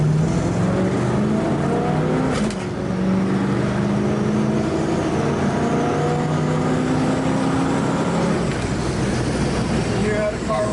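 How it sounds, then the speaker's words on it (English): A 1967 Chevrolet Camaro drives off and revs, its engine note climbing through gears with a firm shift, loud and close amid an outdoor car gathering, with speech mixed in. "Turn it around here and give it a little shot so you can hear how it runs."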